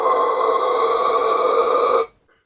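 A voice performs a guttural low-note scream, a rough, growling sustained tone held steadily for about two seconds before cutting off abruptly into silence.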